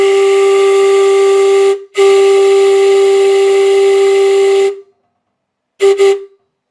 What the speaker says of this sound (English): I'll blow it from inside the cab so you can hear how loud it is from outside